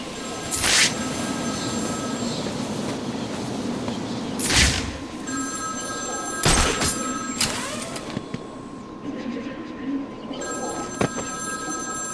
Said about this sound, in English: There's a phone ringing somewhere.